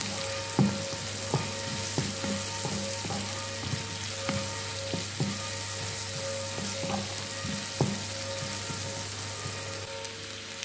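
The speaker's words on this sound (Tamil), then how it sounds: "எல்லாத்தையும் சேர்த்து நல்ல வடிவாக வதக்கி எடுப்போம்." Potatoes and spices sauté in a pan for a spicy Jaffna-style potato pirattal, giving a steady, loud oily sizzle with regular light taps of a spoon stirring throughout.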